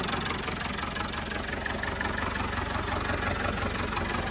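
An old tractor engine, long left standing in the woods, idles steadily close by with a dense, rattly, even chug that never changes pace across the whole stretch.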